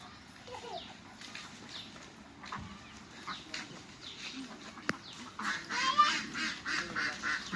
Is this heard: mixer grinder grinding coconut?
no